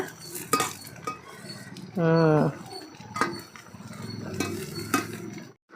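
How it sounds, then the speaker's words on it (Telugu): Gongura leaves frying in hot oil, a close sizzle with repeated clinking spoon strokes against the pan as they are stirred, plus a brief tonal squeak partway through. "గోంగూర అయితే చూసారా ఫ్రై అవుతుంది"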